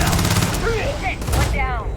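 Sci-fi video-game gunfire in Starfield, a dense, loud burst of shots with whooshing energy-weapon sweeps and a voice breaking in over the fire.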